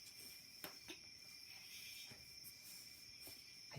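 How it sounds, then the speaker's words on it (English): Faint crickets chirp in a steady, high-pitched trill, heard from outdoors at a low level with soft ambient background noise. "I think I hear some crickets"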